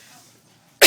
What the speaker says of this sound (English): I get the hiccups and then I cough and it does it.